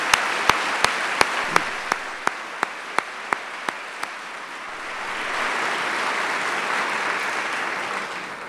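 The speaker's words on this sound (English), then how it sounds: "give them all a round of applause" Audience at a city's annual address applauding after guests are introduced, starting with a few distinct close claps that swell into steady, full room-wide clapping lasting several seconds.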